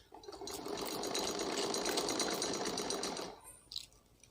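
A sewing machine stitching an umbrella frock runs in one continuous burst of rapid mechanical clatter for about three seconds, close and steady, then stops with a brief click of handling afterward.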